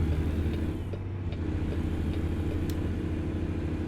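A truck engine in American Truck Simulator, set in Texas, rumbles steadily at a low pitch while the truck drives along a road, with a continuous even drone and faint mechanical ticks and no talk.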